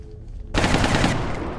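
Gunfire in the video game XCOM Long War sounds as one soldier's weapon unloads a loud, rapid burst of shots lasting about half a second, with no talking over it.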